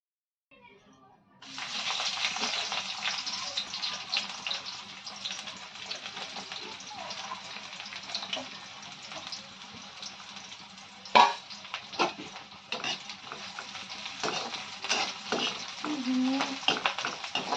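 Hot oil sizzles and spatters in a home cooking pan as onions fry, a steady crackling hiss with occasional sharper pops, at moderate volume.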